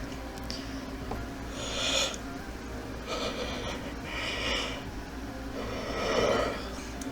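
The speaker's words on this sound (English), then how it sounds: "I thought I was gonna cough, and then I yawned." A person in a quiet room at almost 4 a.m. yawns and breathes audibly, with several breathy, drawn-out exhales and snort-like intakes in soft, close swells.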